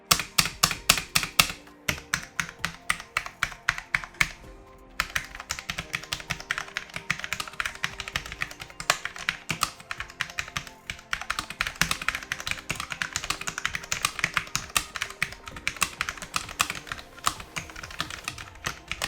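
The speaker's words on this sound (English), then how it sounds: "a keyboard review wouldn't be complete without a typing test, so here's what the SK630 sounds like" Steady typing on a Cooler Master SK630 low-profile mechanical keyboard, dense rapid keystroke clicks close up with a brief pause near two seconds and five seconds, then continuous fast typing alone.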